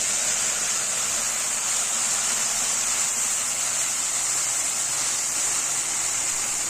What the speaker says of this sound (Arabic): وهنزل على الرز بميه سخنه